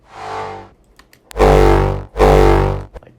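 Hardstyle kick drum with a long reverb tail, two loud, distorted, booming kicks played alone in succession, each ringing out for about a second after a softer tonal sound at the start.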